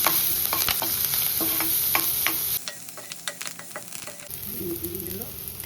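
Mustard seeds, curry leaves, crushed garlic, asafoetida and turmeric sizzle loudly in hot oil for rasam, with steady frying hiss, sharp crackles and spoon stirring, briefly quieter midway before the sizzle swells again.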